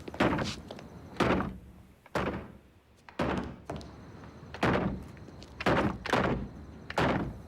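A door is battered in a series of heavy, evenly spaced thuds and bangs, about a dozen loud impacts roughly every half second to second, as it is forced open in an animated adventure story.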